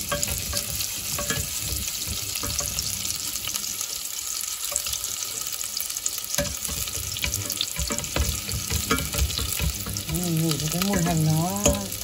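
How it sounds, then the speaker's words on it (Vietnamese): Meat and shrimp stir-fried with shallots in a hot pan, a steady close sizzle and frying crackle with scraping stirs throughout, growing slightly louder toward the end, with no talk. "sau đó ta sẽ cho thịt cho tôm vào ra xào ấy"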